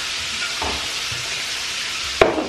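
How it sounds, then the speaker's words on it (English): Chopped onion frying in oil, a steady close sizzle with occasional stirring scrapes and a sharp clink near the end. "You just want to cook that onion down a little bit"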